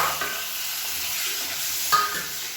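Halved boiled eggs stir-fry with masala in a pan, a continuous hiss and sizzle under soft scraping, with one sharper utensil tap near the end and no talk.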